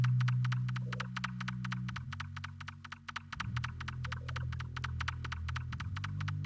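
A rim shot stands in for the hi-hat in an R&B beat, ticking in a fast, steady pattern of sharp clicks over a low humming synth bed that shifts pitch partway through.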